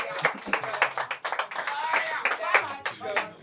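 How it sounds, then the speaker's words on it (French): An audience claps for the first verse at a rap battle between Africain and Zegun, a burst of quick, dense handclaps close by, mixed with a few shouts and voices. "Les gars, on acclame le premier couplet des Africains."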